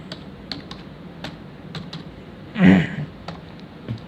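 Keys clatter on a computer keyboard as numbers are entered into a list, light irregular taps at close range, with one brief louder shuffle midway and a quiet background hiss.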